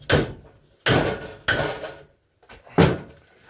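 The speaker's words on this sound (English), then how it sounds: "Need a little assistance with a hammer." A hammer strikes a hydraulic cylinder part from a late Case Ingersoll loader four times, each hit a loud, close metallic knock with short ringing decay and irregular gaps between blows.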